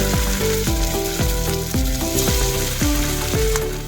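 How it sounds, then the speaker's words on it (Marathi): Matar poha cutlets shallow-fry in a pan with a steady, loud, close sizzle, broken by regular clicking pulses and no talking. "आता आपण याला शॅलो फ्राय करून घेऊ"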